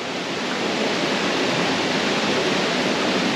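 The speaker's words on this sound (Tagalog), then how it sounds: "Ambakan Falls daw po dito" Ambakan Falls, a waterfall in Balamban, Philippines, roars as a steady, loud, broadband rush of falling water that stays constant and close throughout, with no voices.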